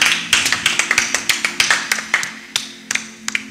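A church congregation claps together in sharp, uneven bursts to acclaim the Lord. The claps are loud and close and come in quick, irregular waves that thin out toward the end. No voices sound over them.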